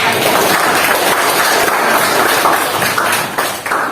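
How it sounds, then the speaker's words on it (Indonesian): Students in a classroom giving a round of applause, loud, dense clapping from many hands that holds steady before thinning slightly at the end. "tepuk tangan"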